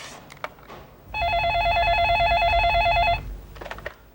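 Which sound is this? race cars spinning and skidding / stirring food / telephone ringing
telephone ringing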